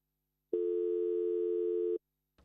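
A telephone line emits a single steady busy tone lasting about one and a half seconds after a caller to a radio phone-in show is cut off, loud and clean, with a brief click afterward.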